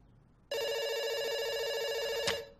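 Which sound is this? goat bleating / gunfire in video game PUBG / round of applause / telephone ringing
telephone ringing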